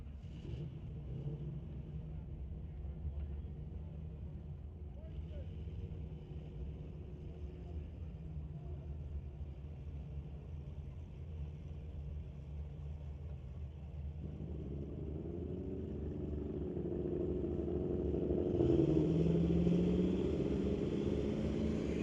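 A Chevrolet Malibu drag car launches at a street-legal drag strip night, heard as a distant, steady engine rumble that swells louder toward the end.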